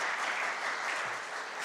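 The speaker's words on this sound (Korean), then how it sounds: "다시 한번 우리 환영의 박수, 감사의 박수 드리겠습니다." Congregation applauding during a New Year's Eve worship service at an air force base church, a steady, dense wash of clapping from many hands, fairly faint and continuous with no talk.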